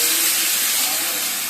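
Potatoes are added to a hot pan while cooking in a home kitchen, giving a loud, steady, broadband sizzle and hiss that holds throughout, close and alone with no talk.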